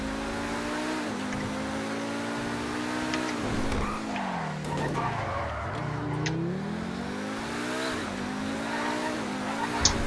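A Lamborghini Huracan, the Pegassi Tempesta in GTA Online, drives with a steady engine drone that dips and climbs as it slows and speeds up, with occasional tire squeal, moderately loud and without talk.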